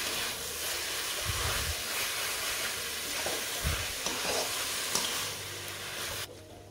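Gumi (dronapushpi) bhaji greens sizzle steadily in a pan over medium heat, a continuous frying hiss with occasional louder stirring scrapes, close and alone without talk.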